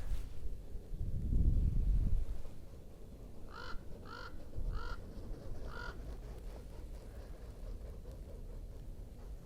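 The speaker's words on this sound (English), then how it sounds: "You could like hear those birds' wings flapping." Several crows caw in a quick run of four harsh calls from a moderate distance on Dirt Mulholland above the Los Angeles valley, over faint wind rumble and an earlier low whooshing.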